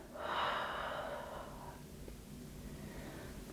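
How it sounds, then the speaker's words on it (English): A slow, steady exhale out through the mouth during an at-home yin yoga flow, a soft breathy rush that swells early and then trails off into quiet room tone, heard alone without talk. "Do inhale through your nose here, fill your lungs. Exhale out your mouth."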